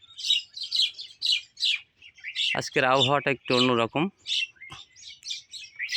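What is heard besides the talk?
birds chirping on a foggy winter morning in a village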